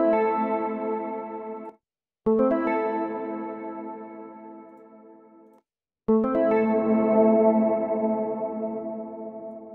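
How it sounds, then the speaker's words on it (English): Sustained synthesized tones with a lush, effected wash from the UJAM UFX Reverb plugin ring out in three phrases separated by brief silences, each slowly decaying. "Is this really a reverb plugin"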